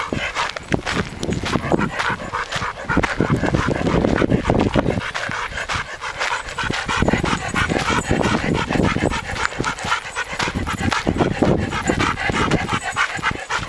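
A dog pants heavily and continuously in the heat on an arid desert hiking trail among cactus, with rapid rhythmic breaths close by, mixed with footsteps on the path.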